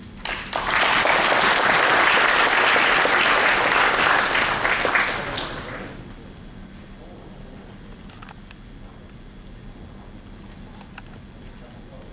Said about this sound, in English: give a big applause to welcome our guest speaker, Mr. Paul Berkeley